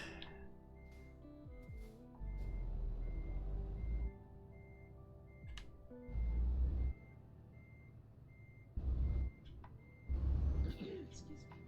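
Steady electronic reversing beeps from a truck in Euro Truck Simulator 2 repeat evenly throughout, with bursts of loud engine rumble and hissing air brakes coming and going around them.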